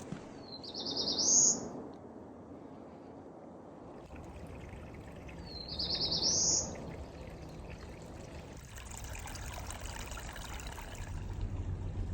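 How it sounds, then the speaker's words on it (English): A white-throated sparrow sings on the Franconia Ridge Loop in spring: two separate high, clear whistled phrases, a few seconds apart. They ring out over the steady rush of running water near a descending stone stairway. "White-throated sparrow."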